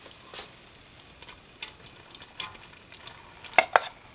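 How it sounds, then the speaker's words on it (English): Stirring a pot of haluski, a cabbage soup with egg noodles, produces soft, scattered scraping and sloshing strokes, faint and close, ending in two sharper clinks of a utensil against the pot. No talking. "And give it a good stir now."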